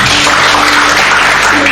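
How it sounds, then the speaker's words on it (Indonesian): Applause from a church congregation praising God, steady dense clapping close by filling the whole short stretch without a break. "Tepuk tangan bagi Tuhan"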